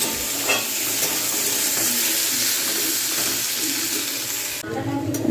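Chowmein stir-fried in a hot pan, a loud continuous sizzle with scraping and stirring throughout, a brief change in texture near the end.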